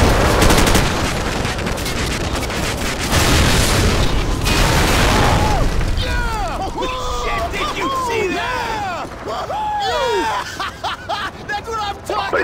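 A loud, booming gunshot and heavy firing from the Call of Duty Modern Warfare mission War Pig fill the first half, then fade as radio chatter and voices take over.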